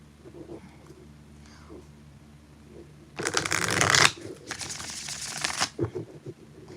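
Tarot cards being shuffled in two loud, dense bursts of riffling, close by, after a stretch of quiet room noise with faint murmuring.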